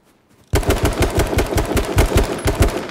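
Gunfire in the video game H1Z1 bursts in after a brief quiet, loud and close, as a rapid run of automatic shots repeating at an even rhythm until the end.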